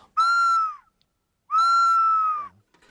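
Two long, clear whistled calls imitating an owl-like Brazilian bird, each a sustained pure tone with a slight falling end, separated by a short pause, close and loud with no speech.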